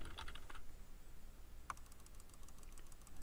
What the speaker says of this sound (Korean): 먼저 키보드와 마우스 버튼 클릭 소리입니다.